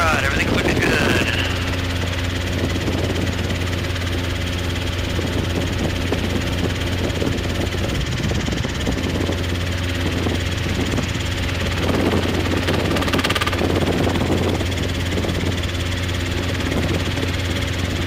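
A Robinson R22 training helicopter in flight gives a steady, loud rotor and engine drone with a constant low hum throughout, while radio voices and pilot talk come and go over it.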